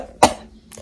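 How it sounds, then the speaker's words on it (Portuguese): A single sharp cough from a person, close and fairly loud, followed by a fainter second cough or throat sound a half second later, with no talking. "Agora começou a tosse."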